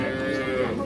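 A dairy cow with her calf moos at Ambari cattle market in Parbatipur, Dinajpur, a single loud, close, sustained low call lasting the whole moment.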